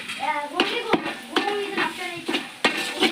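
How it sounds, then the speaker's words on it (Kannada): A spoon stirs a gram flour mixture in a pan on the stove, soft scraping strokes with a few sharper clinks against the pan, close and moderately quiet, with a faint sizzle underneath. "ಈಗ ಚಮಚ ತೊಗೊಂಡು ಕೈಯಾಡ್ಸೋಣ್ರಿ"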